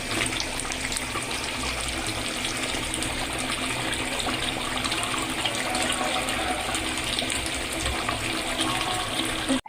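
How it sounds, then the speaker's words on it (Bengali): Rice poured into a pot of meat and potatoes for biryani, a continuous rushing, watery hiss and sizzle close up, steady throughout with no talking. "এখন আমি চালগুলো দিয়ে দিব।"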